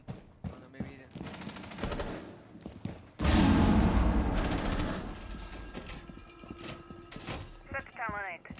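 Rapid bursts of video game gunfire from an online shooter match crackle through most of the stretch, with a loud sustained barrage in the middle, while players talk over the action.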